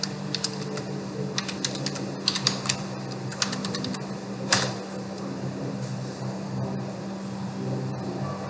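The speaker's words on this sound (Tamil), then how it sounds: "இப்போ பாஸ்வேர்ட் டைப் பண்ணுறேன்." A password is typed on a computer keyboard, with scattered soft key clicks in uneven bursts over a steady electrical hum and room noise.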